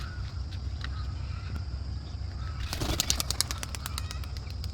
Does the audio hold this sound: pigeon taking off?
yes